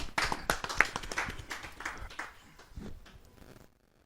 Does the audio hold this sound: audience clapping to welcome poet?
yes